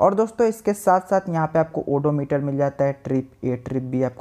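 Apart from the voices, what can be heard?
No everyday noise stands out behind the speech.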